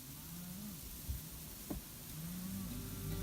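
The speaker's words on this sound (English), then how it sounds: "Look at the calves." Cattle calves on an Oklahoma farm give a few low, drawn-out moos at feeding time, some nearer and some farther off, over a faint steady background hiss with no talking.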